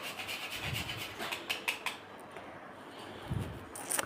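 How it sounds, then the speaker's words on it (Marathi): Nutmeg rubbed against a small hand grater in a home kitchen while making a milk pudding: short, dry rasping strokes in uneven bursts, close and moderately loud, with quiet gaps between. "जायफळ मी किसणीने थोडंसं किसून टाकते, त्याची एकदम पावडर खाली पडते."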